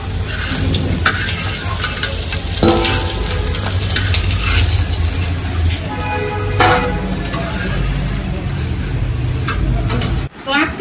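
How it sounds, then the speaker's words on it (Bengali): Puti fish (pool barb) frying in a pan, a dense steady sizzle with occasional clinks and stirring sounds running throughout, loud and close. "তো আমি এখানে পুঁটি মাছ ভাজতেছি"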